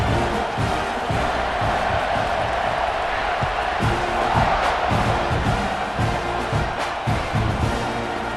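A football stadium crowd in a video game buzzes after a score, a steady dense roar of cheering with rising swells, mixed under a commentator's voice.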